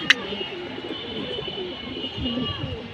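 Low, murmuring pigeon coos rolling softly at close range over a steady background hum, with a brief sharp click at the start.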